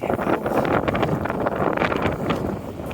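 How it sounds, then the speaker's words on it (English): Steady, loud wind buffeting the microphone, a continuous rumbling roar with gusty swells throughout. "It's really very windy up here"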